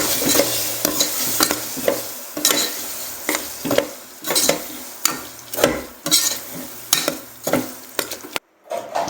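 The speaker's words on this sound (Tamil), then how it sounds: "இப்போ மல்லித்தூளை எடுத்து இதில் போடணும். மிக்ஸ் பண்ணணும்" Turmeric and coriander powder are stirred into a frying pan for a mutton intestine curry, with rhythmic spoon scrapes about once a second over a soft sizzle and a brief pause near the end.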